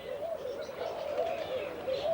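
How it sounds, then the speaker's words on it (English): A fantail pigeon coos in a wavering, low, continuous murmur at a snake and bird park. It is fairly close, with faint background chatter behind it. "Fantail pigeon, I think they're called."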